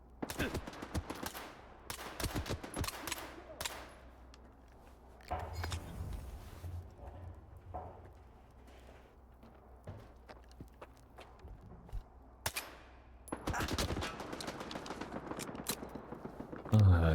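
AK rifle fire in S.T.A.L.K.E.R. 2, with quick bursts of sharp shots at the start, a quieter stretch with footsteps and rustling, then another cluster of shots near the end. A voice talks at times.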